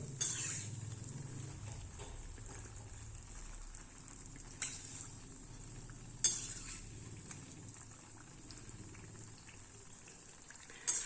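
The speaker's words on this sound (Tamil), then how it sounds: "இது மாதிரி கலந்து விட்டுக்கிட்டே இருங்க அப்போ தான் எல்லா பக்கமும் ஈவனாக வந்து கலர் வந்து மாறி வேகும்" Bonda frying in hot oil while being turned, with a quiet, steady bubbling hiss and a few faint clinks of a ladle against the pan, close but soft.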